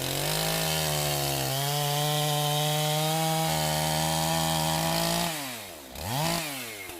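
A chainsaw cuts through wood, its engine holding a loud, steady high-revving drone for several seconds before easing off, then briefly revving up once more and dropping away near the end.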